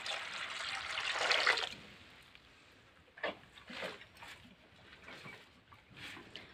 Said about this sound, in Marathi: आता किती फास्टमध्ये पाणी देतो.